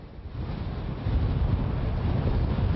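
Strong hurricane wind gusts during Hurricane Matthew roar as a steady, loud rush of buffeting noise against the microphone, swelling stronger after the first second and holding with no voices.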